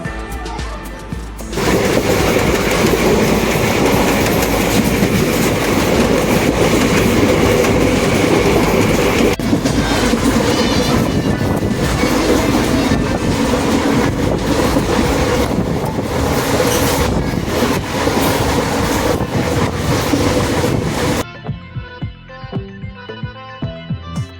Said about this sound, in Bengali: আমাদের ট্রেন চলছে